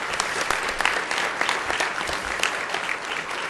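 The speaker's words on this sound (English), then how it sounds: "Please clap for Dr." A school board meeting audience claps for a doctor's program work, loud, dense applause from many hands sustained evenly for several seconds.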